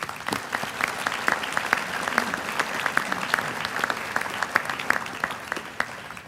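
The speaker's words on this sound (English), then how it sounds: "Please express your appreciation to these names that I've called with a warm round of applause." At a sports hall of fame ceremony, an audience gives a warm round of applause, steady overlapping clapping heard at moderate distance, with individual claps standing out from the continuous wash.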